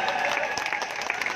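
Crowd applause at a political rally, a dense continuous wash of clapping hands sustained at steady volume throughout, with no voices standing out above it.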